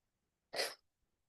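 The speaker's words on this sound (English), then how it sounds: "I'm going to sneeze" A single sharp human sneeze, close and sudden, followed by near silence.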